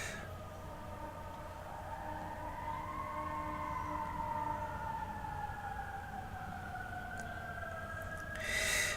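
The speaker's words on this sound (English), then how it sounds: "Sorry about the sirens in the back." A siren wails from a distance on a passing truck, a faint, slowly rising and falling tone drifting steadily over low background hum with no talk.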